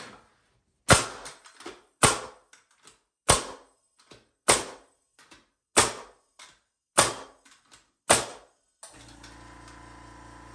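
A nail gun running on a Makita MAC210Q 2-gallon quiet compressor set to 105 PSI fires seven sharp, loud, evenly spaced shots about a second apart, then the compressor motor starts up with a steady hum.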